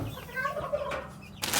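Young chicks in a stock tank brooder cheep and cluck at close range, a short burst of chirps ending in a rustle of movement.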